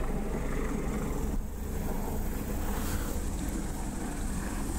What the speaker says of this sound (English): Sorry about the helicopter. Hopefully it's not too bad.